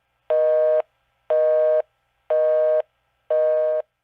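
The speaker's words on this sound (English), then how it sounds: "you go to dial 911, what do you get? Nothing but the busy signal." Four identical electronic busy-signal tones on a telephone line after dialing 911, evenly spaced about a second apart, loud and steady with silence between each beep and no voices.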